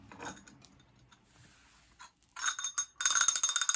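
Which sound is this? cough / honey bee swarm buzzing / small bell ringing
small bell ringing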